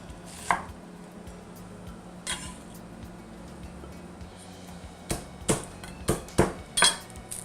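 Knife chopping onion on a cutting board for pork chili verde: a few scattered chops early, then a quick run of six or seven sharp, close knocks at the end, with no talk.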